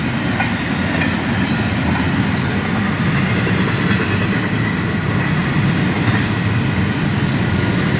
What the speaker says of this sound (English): Here's a freight train going by Atlanta.